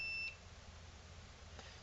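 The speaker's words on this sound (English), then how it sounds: "the constant beep of my meter turning off" Digital multimeter giving a single sharp electronic beep as it powers itself off during a laptop repair, then a quiet room hum.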